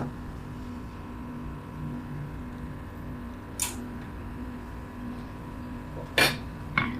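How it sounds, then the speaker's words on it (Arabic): Herbal toothpaste stirred in a pot on a gas stove over low heat: a steady low background hum broken by a few sharp metallic clinks of the utensil against the pot. "وهنبتدي نقلب في المعجون بتاعنا"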